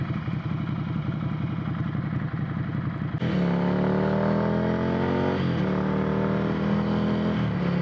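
Ducati Monster 797 motorcycle rumbling with a steady, throbbing note up close, then the engine tone shifts and winds down in a series of falling pitch sweeps as it engine-brakes, with a brief dip near the middle.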